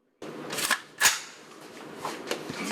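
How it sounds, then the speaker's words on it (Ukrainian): Two sharp Glock-type pistol gunshot cracks at an outdoor shooting range, about a third of a second apart, followed by quieter echoing pops and a lingering outdoor reverberation. "Стріляли ветерани із різної зброї та переважно пістолети типу глок."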